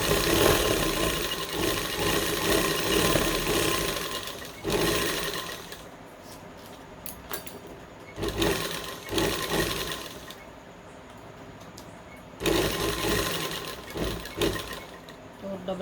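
Sewing machine stitching a salwar in rapid, steady runs of mechanical whirring, stopping and restarting in several bursts with quiet gaps between, close and fairly loud, with a voice talking in the pauses.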